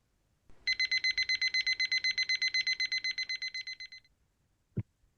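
A timer alarm goes off with a rapid run of evenly pulsed loud beeps lasting a few seconds, then stops, followed by a single short thump.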